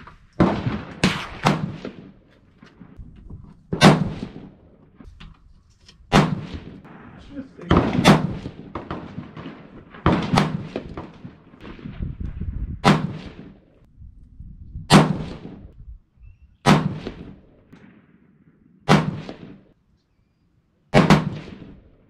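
Rifle shots from a 6.5 PRC firing Hornady A-Tip loads crack out one at a time, about ten loud, sharp reports spaced a couple of seconds apart, each with a short ringing tail outdoors.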